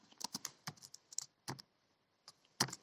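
Rapid clicky keystrokes on a computer keyboard come in short bursts with brief pauses between them. The typing is close and fairly quiet, with no talking.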